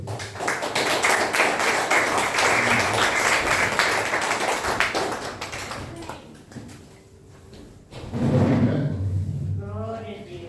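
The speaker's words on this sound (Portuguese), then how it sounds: "Receba com palmas para você." A church congregation claps in a dense burst of applause for about six seconds, fading out before a voice resumes speaking close by.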